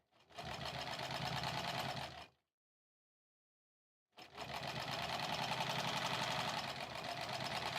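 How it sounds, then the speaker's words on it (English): Sewing machine stitching quilt rows, a fast steady mechanical whirring run of about two seconds, a pause of silence, then a longer continuous stitching burst, close and fairly quiet. "this is kind of my machine stitching for the day"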